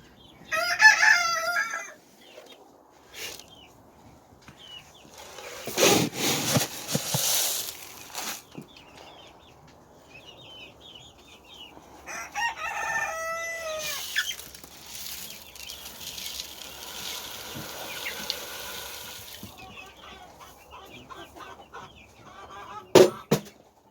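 Frizzle chickens in a backyard coop cluck in scattered bursts and a rooster crows loudly at the start, with wing flaps and rustling between quieter stretches.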